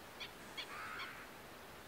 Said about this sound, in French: Il y a des superbes oiseaux là.